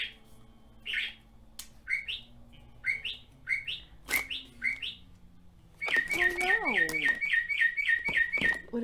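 Songbirds chirp in a steady run of short repeated tweets, then a denser burst of rapid chirps and warbles near the end, under quiet talk in an indoor crafting setting.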